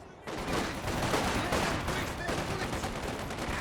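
Bursts of machine-gun and rifle fire during a Company of Heroes 2 battle, rapid and dense, rising abruptly after a brief quiet start and continuing as a loud fusillade.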